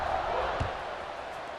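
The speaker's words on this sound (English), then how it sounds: "this crowd is buzzing after that last score" Steady crowd roar fills a stadium in EA Sports College Football 26 after a score, a dense, continuous buzz with a brief low thump partway through.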